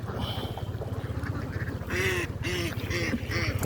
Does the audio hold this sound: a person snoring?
no